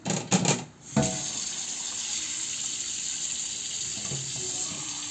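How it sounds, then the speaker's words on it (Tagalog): Water pouring into a cooking pot of pork hocks with mung beans, a steady broadband gush after a few clanks at the start, continuing alone at moderate level. "lagyan na natin ng tubig"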